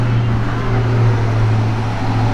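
Vehicles, likely pickup trucks, pass along Main Street in downtown Richmond, Kentucky, beside the Madison County Courthouse, giving a steady loud engine rumble with a low drone that holds throughout.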